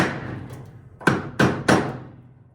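A hammer strikes a dented metal turbo part three times in quick succession, each blow sharp, close and loud with a short ringing decay, after a softer knock and low background rumble.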